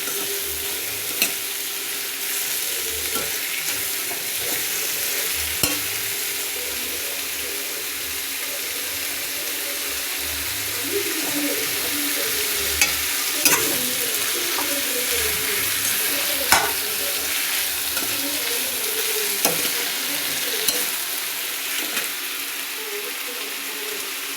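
Gongura chicken frying in a pan with tomato added, stirred continuously: a constant close sizzle with repeated scraping and clinking strokes of the spoon against the pan, fairly loud and steady.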